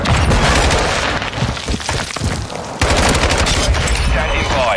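Loud, dense shooter-game combat with a grenade detonating amid continuous gunfire and booming bursts, a harsh wall of noise throughout with a sharp jump in intensity partway through; no voices are heard.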